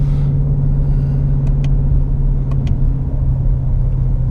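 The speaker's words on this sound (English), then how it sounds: "Now I do have the exhaust mode in sport currently." A 2017 Ford Mustang GT350 with its exhaust in sport mode rumbles loudly and steadily at close range, a deep continuous drone with a few faint ticks on top and no talk.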